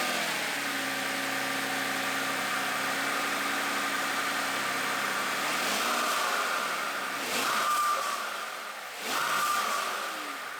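Twin-turbo V12 Mercedes engine fitted with a prototype intake, idling with a steady low hum that rises into a couple of short revs toward the end, heard at moderate distance.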